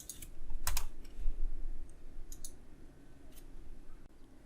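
Computer keyboard typing during coding work, quick bursts of clicky key presses and a few isolated taps, close and fairly quiet, with no voices.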